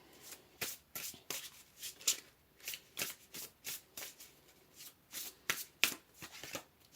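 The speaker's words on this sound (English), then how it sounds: "Let's pull a couple more cards here." A tarot deck being shuffled and handled up close, producing a quick, steady series of soft riffling and card-slapping bursts, fairly quiet throughout.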